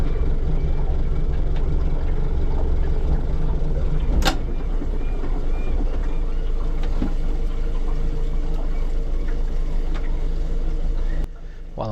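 A boat motor running slowly at low speed, a steady low engine rumble close by with a clunk as it shifts in and out of gear, while someone talks over it.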